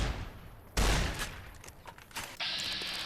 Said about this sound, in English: Caravan shotgun is fairly useful against the bad guys at this level